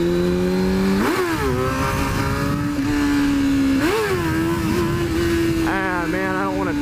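Motorcycle engine revving hard in second gear for a wheelie, repeated rising and falling pitch sweeps up to about 6,000 RPM, loud and close throughout.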